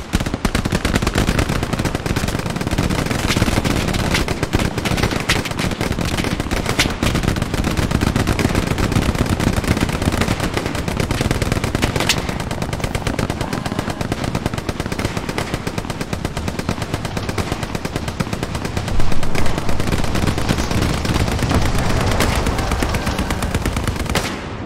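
Sustained machine gun fire from an online multiplayer shooter, loud and nearly continuous for the whole stretch with dense overlapping bursts and a brief louder burst near the end.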